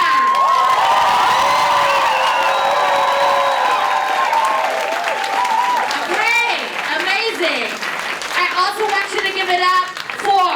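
A crowd at a Trans Pride Festival claps and cheers loudly, with shouts and whoops over steady applause, while an amplified voice talks over it.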